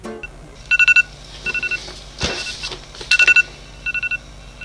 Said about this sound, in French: Ce n'est pas le réveil du téléphone de sa mère qui va l'empêcher de poursuivre son sommeil.